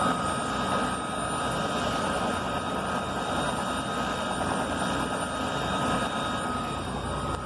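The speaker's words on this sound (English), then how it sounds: "There's a chopper." Helicopter landing beside a parked semi truck, its steady rotor chop and turbine whine holding loud and constant throughout with no talking.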